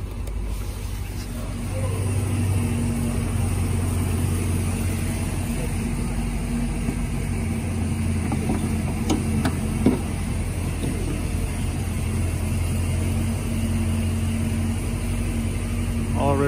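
Supercharged 4.6-liter V8 of a 2003 Ford Mustang SVT Cobra, low mileage and all original, idling with the hood up: a steady, close low drone with a faint whine that holds even throughout.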